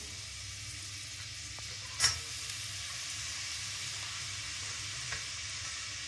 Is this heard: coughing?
no